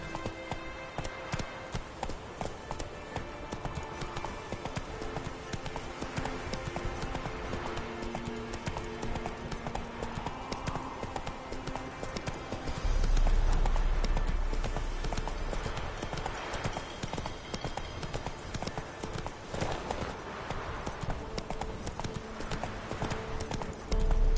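Roach, a horse in The Witcher 3, gallops with steady, rapid clip-clop hoofbeats running throughout, over ambient game sounds and a brief heavier rumble midway; a voice calls out faintly.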